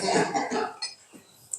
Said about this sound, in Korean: 헛기침을 하시네.